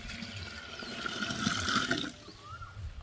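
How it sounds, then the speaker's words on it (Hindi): About a litre of organic liquid fertilizer is poured and stirred into a container of water, a steady splashing and pouring that swells, then breaks off, leaving quieter trickling at close range. "इसको पानी में घोल देता हूँ।"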